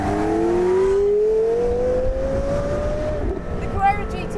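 A Porsche Carrera GT engine revs steadily upward in pitch, loud and close, with a brief higher whine near the end.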